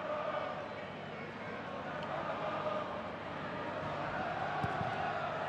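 Rugby league stadium crowd at a Challenge Cup quarter-final between Hull KR and Salford, hushed murmur and steady broad hum of a large audience during a kick at goal, a few brief shouts rising near the end.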